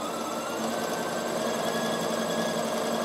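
A Bernina 7 series sewing machine fitted with a punchwork kit hums steadily as its needles punch and felt fabric, a continuous close mechanical whir with no pauses.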